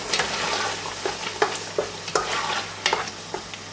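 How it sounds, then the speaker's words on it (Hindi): Chopped onions and green chillies sizzling in a pan for a chicken masala fry, with a spatula scraping and stirring in irregular strokes over a continuous close frying hiss. "और प्याज को अच्छे से फ्राई कर लेते हैं।"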